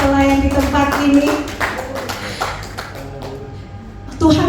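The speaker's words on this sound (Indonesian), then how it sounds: "Boleh kita berikan tepuk tangan buat para pelayan di tempat ini." A congregation at a Sunday worship service claps for the church servants, with scattered bursts of hand claps over a musical, toned background that fade and then swell again at the end.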